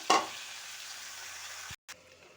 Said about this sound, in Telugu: ఆకు వేసేసుకొని 10 నిమిషాలు ఫ్రై చేసుకోవాలి.